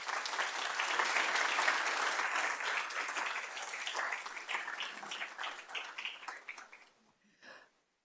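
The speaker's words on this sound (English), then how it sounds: "So please, a round of applause for our speakers." A conference audience on security and organised crime applauds its panel speakers, with sustained, dense clapping that gradually thins and fades out near the end, followed by a brief quiet sound.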